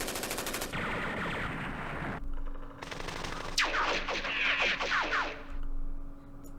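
Machine gun fire in the Vietnam war game Campaign Series Vietnam, with bursts of rapid rattling shots heard in several separate stretches, loud and close, with no voices.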